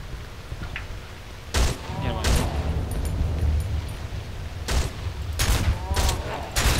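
Gunfire in the horror game Cry of Fear, several loud sharp shots spaced apart over a rumbling, noisy background, aimed at heads with a P35 pistol.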